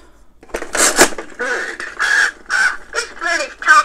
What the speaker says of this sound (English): And then I want to hear the bird because the bird is hilarious.